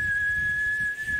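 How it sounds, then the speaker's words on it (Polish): A car alternator gives a steady, thin, high-pitched squeal as air is sucked through a tiny gap, held over a low engine rumble and close to the listener. "to jest podciśnienie, czyli ssanie powietrza powoduje pisk"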